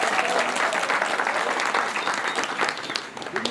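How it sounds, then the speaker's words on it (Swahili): An audience claps at a political gathering, a dense and steady wash of applause that holds for the whole stretch and fades slightly toward the end. "Wapi makofi ya watu wa matokeo?"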